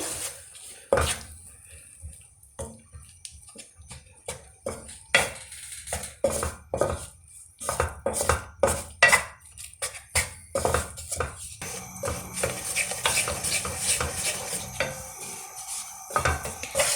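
Besan and flour stirred and roasted in ghee in a pan for pattisa, with a spoon repeatedly scraping and clinking against the metal under a soft sizzle, the strokes coming in a steady, busy rhythm close by.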